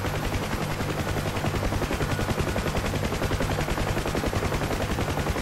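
Door gunner's machine gun on a UH-1H Huey helicopter in the DCS flight simulator, firing in rapid, continuous bursts over the steady drone of the rotor, loud and unbroken throughout.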